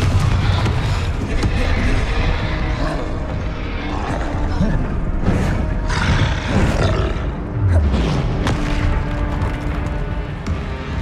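Fiery explosion from a Confringo spell in the Hogwarts Legacy video game, loud roaring bursts and booms repeating over a dense, continuous game soundtrack with no clear pauses.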